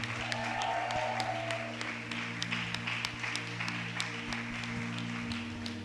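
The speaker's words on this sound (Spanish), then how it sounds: "¿Cuántas dan un aplauso y un grito de alegría?" A church women's gathering applauds with scattered clapping and some cheering, fairly faint over a steady background hum.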